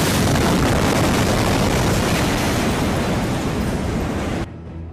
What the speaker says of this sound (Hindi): जैसे ही धमाका होता है, पूरी इमारत हिल जाती है।